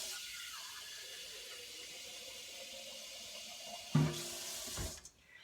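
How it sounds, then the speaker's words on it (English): Water from a kitchen tap runs steadily into an empty 24-ounce glass pasta sauce jar, a continuous rushing flow that swells briefly near the end before cutting off. "I'm going to add about 12 ounces of water."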